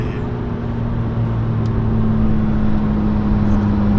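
A McLaren 720S Stage 2 accelerates hard out of third gear, its engine a loud, steady roar with a strong low drone that holds throughout.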